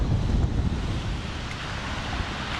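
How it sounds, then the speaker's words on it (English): Ocean surf rolling onto the beach at Tamarindo, Costa Rica, near rocks where people surf, heard as a steady, fairly loud wash of waves mixed with wind buffeting the microphone, with no talking. "Looks like there's some cool waves here."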